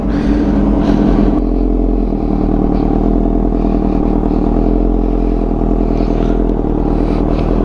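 A 2009 Kawasaki ZX6R motorcycle idling right after a cold start, a loud steady engine drone with rapid mechanical clatter, close up and continuous without talking.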